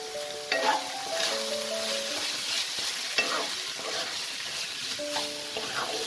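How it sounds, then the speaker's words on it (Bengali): A fish and spice mixture for Bengali fish kachori, with Kashmiri chili powder, fries over medium flame in a pan, a steady sizzle broken by scraping stirs and a few clinks of the utensil. "এটাকে খুব সুন্দর করে আমাকে মিডিয়াম ফ্লেমে ফ্রাই করতে হবে।"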